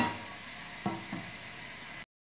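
Tomatoes sautéing in a pan for a simple fish curry, giving a steady soft sizzle with a couple of faint stirring clicks before it cuts off.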